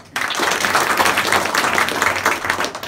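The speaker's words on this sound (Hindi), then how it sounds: "थैंक यू बोलो और ताली बजा लो जरा" Students at an intermediate college in Motipur clap for their manager and principal, a sudden burst of dense, steady applause that keeps going near and loud.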